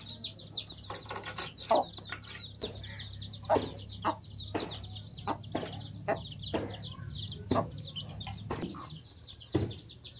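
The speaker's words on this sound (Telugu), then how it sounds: "కోడి పిల్లలు చేసిందండి, వినిపిస్తుందా సౌండ్?" Chicks and a hen chirp and cluck in a steady, busy series of short calls close by, with no talk.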